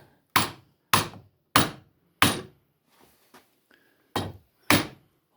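A chisel driven into wood to undercut a chair joint gives a series of sharp, hollow knocks, several evenly spaced strikes, then a short pause with faint scraping before two more.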